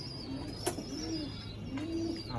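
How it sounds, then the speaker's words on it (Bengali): Pigeons in a newly set up loft of Nepali yellow-eyed and other fancy breeds give soft, low cooing calls that rise and fall in repeated phrases, fairly close, with a faint higher chirp now and then. "পায়রাগুলো এগুলো সব নতুন করে সব সেট আপ করেছি"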